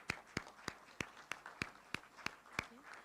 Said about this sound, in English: Please give our keynote speaker another round of applause.